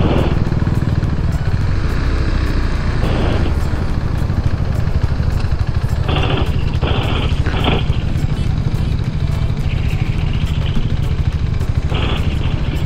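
A Husqvarna Svartpilen 401 or Honda Cross Cub 110 motorcycle engine runs with a steady low drone throughout, close and loud, while people talk briefly over it.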